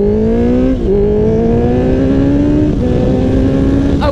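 A Honda CBR650F motorcycle engine pulls hard through the gears, loud close rising whine with brief dips at each shift, continuous and up front.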